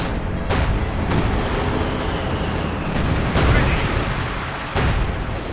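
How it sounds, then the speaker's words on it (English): Howitzer shells and gunfire from a Company of Heroes 2 battle with Panzer IV tanks, a dense loud rumble of booms and bursts with several sharp blasts standing out, blowing up parts of a road, with a commentator's voice likely running underneath. "And howitzer fires. Blowing up bits of the road and other things."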